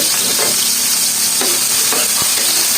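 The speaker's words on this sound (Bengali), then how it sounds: "রসুন পেঁয়াজটা একটু ভেজে নেব।" Chopped garlic and onion fry steadily in a pan, a continuous loud sizzle with occasional stirring scrapes and light knocks, no voices.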